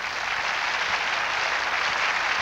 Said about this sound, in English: Everybody give them a good hand clap